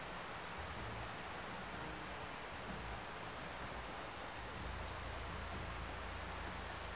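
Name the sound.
rain in NCAA Football video game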